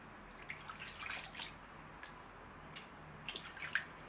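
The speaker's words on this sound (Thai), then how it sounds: "แล้วก็ล้างออกมันคือการล้างออกนะ" Water faintly splashes and drips while THREE Balancing Cleansing Oil is rinsed off a face, in soft, scattered patters over a quiet background.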